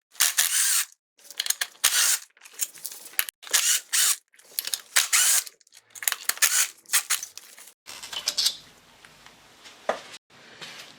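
A ratchet backs out 8 mm bolts holding the coil packs on a 1999 Acura RL engine during valve cover gasket work. Loud, close bursts of rapid clicking alternate with short pauses and repeat many times.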